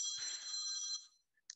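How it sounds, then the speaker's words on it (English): Mobile phone ringtone going off during a roundtable talk on ports and coastal communities, a bright, steady electronic tone ringing loud for about a second, then cut off, followed by a short faint chirp and a brief final burst. "that's my phone. It always goes off at the wrong moment."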